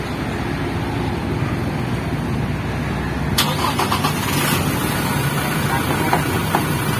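A Toyota Revo pickup fitted with an aftermarket push-start system is started remotely from its smart key: after a steady background hum, the engine cranks and catches midway, then settles into an even idle.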